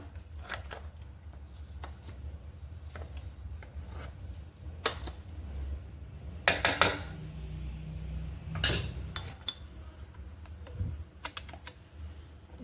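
Ground lentil batter is hand-mixed in a bowl with onion, greens and salt for steamed vada, giving sporadic soft clicks, scrapes and a few sharper clinks against the vessel over a quiet background.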